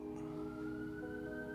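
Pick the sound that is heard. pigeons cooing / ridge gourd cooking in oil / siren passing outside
siren passing outside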